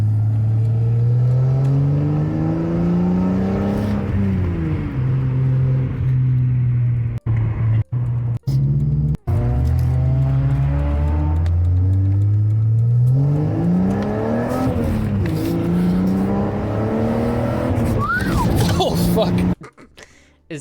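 A video-game BMW car engine revs up and down repeatedly in rising and falling sweeps, with brief dropouts, while speech runs underneath much of it.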